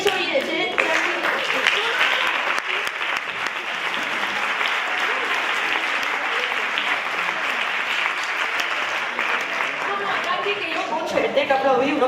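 An audience at a circus show applauds in a sustained, dense wave of clapping that stays loud and steady throughout, with some crowd chatter underneath.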